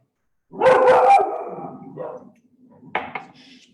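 A dog barks in a quick close burst of several loud barks, followed by a softer yip and a couple of short faint barks, alone without talk.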